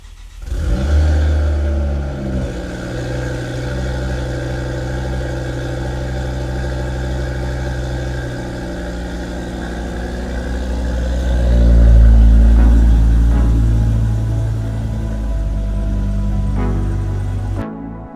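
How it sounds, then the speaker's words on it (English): A car engine fires up from cold with a deep, loud rumble, settles into a throaty idle, then revs up around the middle before dropping back to a steady idle. "let's hear one final cold start and then we'll get on the road"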